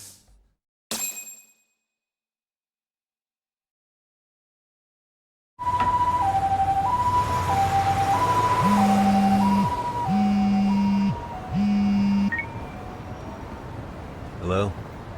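A two-tone ambulance siren in the Lost Judgment game pulls in close and loud after a brief silence, wailing in alternating high and low pitches over engine rumble and street noise.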